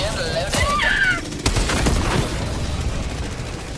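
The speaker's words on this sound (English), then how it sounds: "this is the one with the cannon turrets. I can hear them firing at me now." Cannon turrets in Helldivers 2 pound away in a dense, continuous fusillade, with booming shots and rattling gunfire layered over high whining tones and heavy combat noise.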